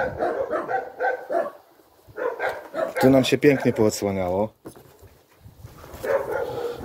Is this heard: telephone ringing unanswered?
no